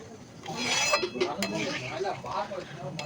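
A spoon stirs dal in a metal pot, scraping and clinking against the sides continuously for a few seconds, nearby and moderately loud.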